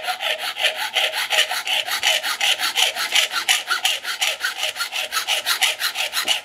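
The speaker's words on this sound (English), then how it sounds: "I'm gonna saw right at that spot with my basic hardware store hacksaw" Basic hardware store hacksaw cutting brass and copper stock, a steady rhythmic rasp of back-and-forth strokes, close and loud, about two strokes a second, with no talking.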